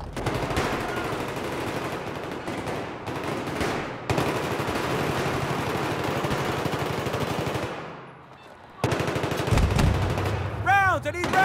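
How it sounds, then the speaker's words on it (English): Sustained machine gun bursts fire almost continuously in the Metro video game, loud and close, with a brief lull before firing resumes, while a voice speaks briefly in the mix. "Hostile machine gunner in your AO"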